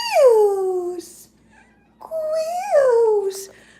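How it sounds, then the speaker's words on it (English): Klaus, a house cat, lets out two long, loud meows close by, each gliding down in pitch, with a short quiet gap between them. "I call him my mustache cat"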